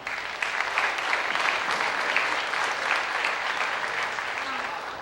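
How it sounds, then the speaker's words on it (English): Sustained crowd applause for award-winning girls at a high school athletic awards ceremony, steady and dense clapping from a large audience throughout, loud and unbroken. "give them a round of applause"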